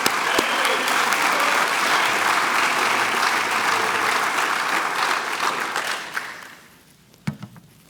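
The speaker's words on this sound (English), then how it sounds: "And while you're clapping, just help me welcome Dr. Sam Wan to our chapel pulpit today." A chapel audience applauds to welcome a speaker to the pulpit, loud sustained clapping that tapers off near the end, followed by a few faint stray sounds.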